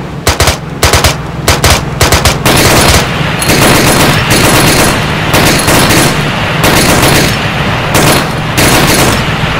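Intense ArmA 3 video game firefight, close and very loud, with rapid staccato bursts of automatic weapons at first, then a dense, almost unbroken roar of overlapping gunfire that runs right to the end.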